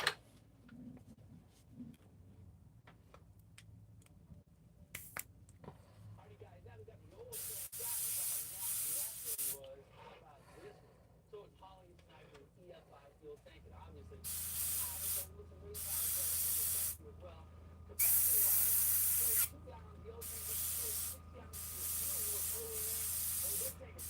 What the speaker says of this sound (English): let me get this airbrush